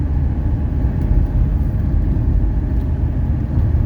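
Inside a 1979 Mercedes 300SD on a test drive in light sprinkling rain, a loud, constant low-pitched engine and road drone rolls on evenly for several seconds with no voices.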